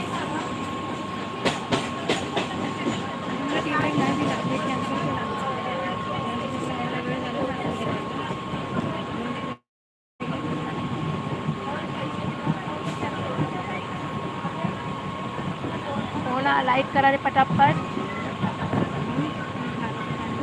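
A crowded passenger train running on its rails with a continuous rumble and rattle from the coaches, broken by a brief gap, while someone talks over it.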